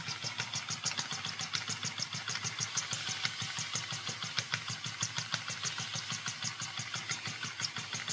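A small miniature steam engine kit, the Rocking Whale, runs steadily with a fast, even chuffing and ticking rhythm, faint and mechanical throughout.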